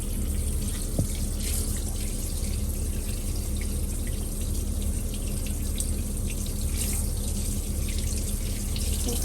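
Tap water runs steadily into a sink in a caravan, warmed for a maltipoo puppy's first bath, a continuous close splashing stream with no talk.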